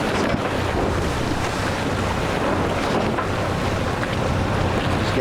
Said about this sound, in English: And then we'll point her back south again, southeast more or less, and set the sails and shut off the engine.